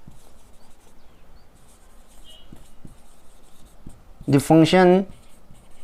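A pen scratches faintly and steadily on paper while maths working is written out in a Class 12 lesson, with a short burst of voice near the end.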